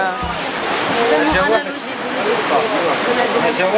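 Water pours continuously at the Ain Asardoun spring waterfall near Béni Mellal, Morocco, a broad rushing wash that stays close and steady, with two low thumps near the start.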